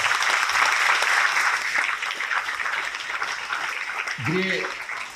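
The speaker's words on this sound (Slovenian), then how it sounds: "En aplavz." Audience applause at a municipal celebration for a Slovenian municipality, a dense steady wash of clapping that fades slightly, with a voice briefly heard near the end.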